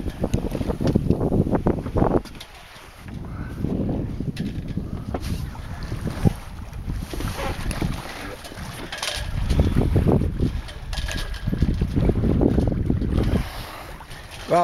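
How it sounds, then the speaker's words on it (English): A Cape Dory 30 cutter sails in light wind of about 5 to 7 knots just outside Pensacola Pass in the Gulf of Mexico, with soft wind buffeting the microphone and gentle water rushing past the hull, rising and falling. "right outside the Pensacola Pass on board my Cape Dory 30 cutter"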